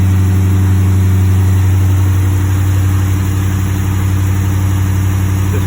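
A 2020 Dodge Challenger R/T V8 idles steadily and loudly up close, a deep continuous rumble with an even low throb that holds for the whole stretch, no talking over it.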